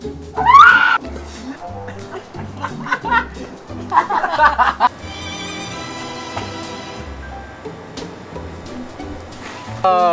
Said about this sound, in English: Alright, start screaming.